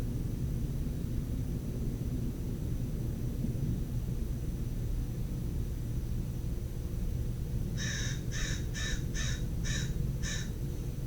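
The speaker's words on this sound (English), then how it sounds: "Oh, the crow is here." A crow caws six times in quick succession near the end, clear and fairly close, over a steady low rumbling background noise.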